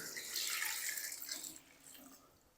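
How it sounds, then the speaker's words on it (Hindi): About a liter of water is poured into a pot for boiling potatoes in a home kitchen, a bright splashing gush for roughly a second and a half that tapers off into a softer trickle. "अब हम ना इसके अंदर पानी शामिल करेंगे"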